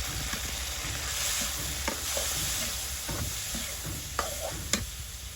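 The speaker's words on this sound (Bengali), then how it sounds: "এই তেলের উপর হচ্ছে যে মাছগুলো কষাই নিব। দিয়ে দিচ্ছি ছায়া মাছগুলো।" Chhaya fish fry in their own fish oil in a pan over a village cooking fire, a loud, steady sizzle broken by several sharp stirring scrapes and clacks.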